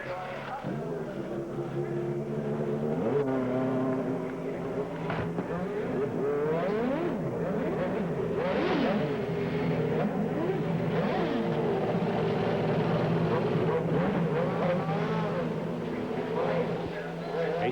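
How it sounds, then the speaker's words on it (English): Eighteen Champ Car World Series race car engines at the 2006 Grand Prix of Portland on a 2-mile road course, revving and blipping in overlapping, wavering tones that form a steady, loud mechanical drone. "Teams awaiting the firing of the 18 motors here today."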